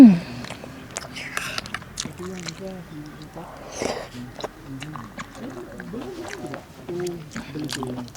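Close, quiet chewing and biting while eating spicy sinigang soup with chili, outdoors on a cold morning in Atok, Benguet, with soft talking in between bites.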